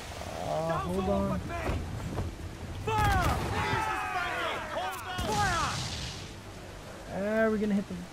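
Ship cannon fire in Assassin's Creed IV Black Flag, several deep booms during a close-quarters naval battle amid wind and sea noise, with crew voices shouting over it.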